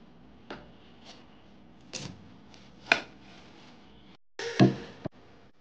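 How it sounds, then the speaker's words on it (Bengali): Knife cutting dragon fruit for a milkshake, a handful of separate sharp taps and thuds spaced about a second apart, the last pair louder and closer, with no talk over them. "মিল্কশেকটা তৈরি করার জন্য ফার্স্টে আমি ফলটাকে ভালো করে কেটে নেব।"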